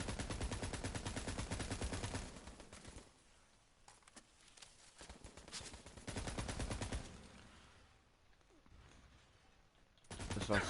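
Turret gunfire in the video game Borderlands 3, rapid automatic bursts in loud stretches separated by quieter gaps, close and harsh, with the firing returning strongly at the end.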